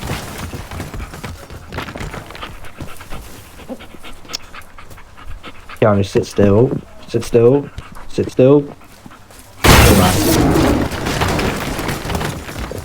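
A dog in the destructible-world game Teardown pants and growls in short bursts between stretches of talk, followed by a loud crashing burst near the end; someone speaks throughout.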